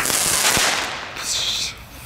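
Firework in a residential area bangs loudly with one sharp crack, followed by a crackling, fizzing tail and a brief hiss.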